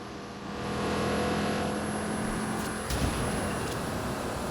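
Steady engine drone of a nitrous-boosted smart car driving in the video game Watch Dogs 2, a sustained loud hum with a brief thump partway through, no talking.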